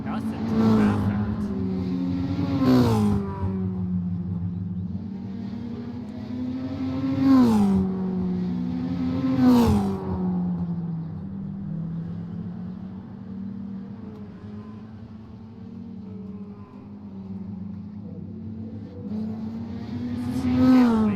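Dirt rookie mini stock race cars, about 2,800 pounds and around 200 horsepower, lap Slinger Speedway, a loud steady engine drone with repeated revving swells as cars pass close, a commentator's voice running over it.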